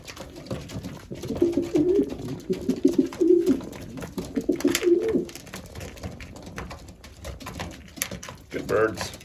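Racing pigeons coo in a loft, soft rolling calls repeating over several seconds with someone talking intermittently nearby.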